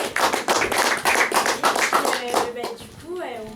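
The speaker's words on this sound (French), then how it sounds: "Vous pouvez applaudir Alexandre." Spectators at a theatre play in Lyon clap for a performer, the applause fairly close and rhythmic for a couple of seconds before fading as a voice begins speaking.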